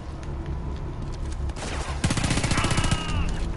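Gunfire in Homefront: The Revolution, a quick burst of rapid automatic shots that starts partway through and rattles loud and close over background game noise.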